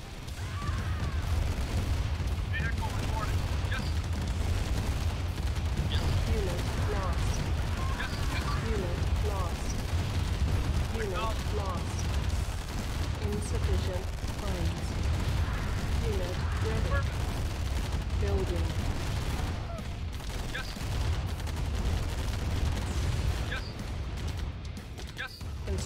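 Video-game gunfire and explosions from a base under attack in Command and Conquer Remastered, a dense and continuous battle din of shots and booms lasting throughout, with spoken unit voice lines over it.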